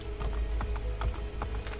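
Horse hooves clip-clop at a steady, even trot on a street in Renaissance Rome in the game Assassin's Creed Brotherhood, a rhythmic series of close hoofbeats over a constant low background hum.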